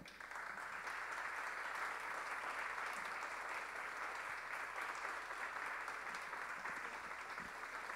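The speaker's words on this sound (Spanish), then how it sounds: "Y este es el aplauso y el reconocimiento a su gran talento" Steady, distant applause from an audience at an awards ceremony for a state music composition prize, a continuous wash of clapping held at an even, faint level with no voices.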